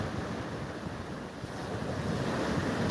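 Big clean waves breaking and washing onto a flat beach, a steady roaring surf with gusty wind noise buffeting the microphone throughout, no voices.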